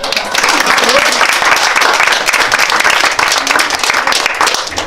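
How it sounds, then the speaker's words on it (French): Audience applause for an entrant at a local cooking contest in Malestroit, loud and dense clapping sustained evenly throughout, close to the listener. "On peut l'applaudir."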